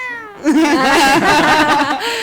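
A person imitates a cat, giving a drawn-out, wavering meow that rises and falls, loud and close, after a brief quiet start.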